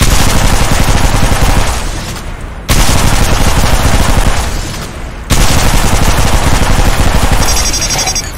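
L-STAR energy gun in Apex Legends firing loud, rapid continuous bursts, three long streams of automatic fire separated by brief pauses as it overheats.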